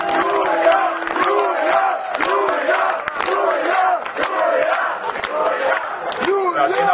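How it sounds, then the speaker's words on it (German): Large crowd cheering and shouting at a political rally in Berlin, a dense, continuous roar of many voices with rhythmic rising chants, loud and steady throughout. "den Applaus hat sie sich redlich verdient für den Mut"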